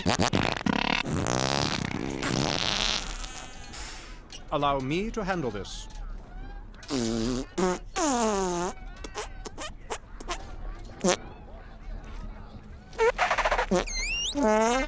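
Cartoonish fart noises from the fart monster in the Disney animated film Treasure Planet, a string of squeaky, buzzing blasts broken by short pauses, mixed with character speech and film sound effects.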